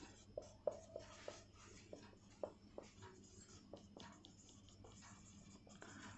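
A pen writes notes by hand, soft scratchy strokes and taps in an irregular rhythm, quiet and close, with faint room noise beneath.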